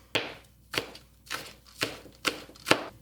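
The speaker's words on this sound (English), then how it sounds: "Then I'm cutting the green onions." A knife chops green onions on a board for Obatzda muffins, six crisp, evenly spaced cuts about half a second apart, close and clear with nothing else around them.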